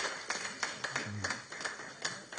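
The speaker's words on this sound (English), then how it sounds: "Another hand clap for UNEB with a special word here." Scattered hand claps from an audience honoring the national examinations board, about eight irregular claps over a quiet, steady room hum, moderately near.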